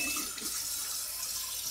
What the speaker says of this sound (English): Rinsing it off. You're gonna rinse off the inside cavity as well.